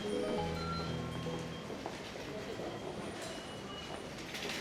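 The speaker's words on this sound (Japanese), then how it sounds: "ここは小田急と東急田園都市線の乗り換え口です。" A train passing at the Odakyu and Tokyu Den-en-toshi line transfer gate in Chuo-Rinkan, Kanagawa, Japan, with a steady rumble of rolling cars, faint wheel tones and some station ambience throughout.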